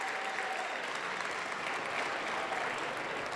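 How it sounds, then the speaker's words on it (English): Steady applause from an audience, a dense wash of clapping that holds evenly throughout without voices. "Give yourselves a round of applause."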